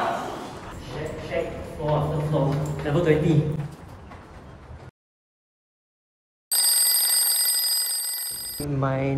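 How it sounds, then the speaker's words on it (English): A phone's 9 PM alarm rings out in a loud, bright repeating tone after a stretch of talk and a brief silence, with a voice returning just as it stops. "My 9 PM alarm is ringing."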